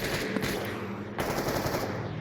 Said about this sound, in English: There's gunfire over here, Captain.